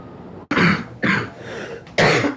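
A teenager hospitalized after vaping coughs three times in a row, harsh, loud and close, with short pauses between the raw, chesty bursts.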